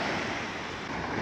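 Sea waves washing at a beach in Phuket, a steady broadband surf wash with wind noise, no talk.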